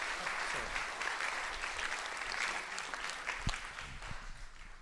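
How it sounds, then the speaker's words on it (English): A lecture audience applauds the speaker, producing a moderate, steady patter of clapping from many hands in a hall that tapers slightly toward the end. "Please give a warm applause to David,"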